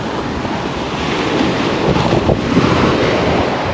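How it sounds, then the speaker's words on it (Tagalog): Strong wind buffeting the microphone over the rolling wash of sea waves, a continuous roar with no voices. "Isang hangin sa laot."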